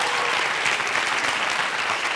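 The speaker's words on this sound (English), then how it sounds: "give Mr. Dean Jackson a huge round of applause." An audience gives a speaker on branding a dense, sustained round of applause, many hands clapping steadily at close range with no break.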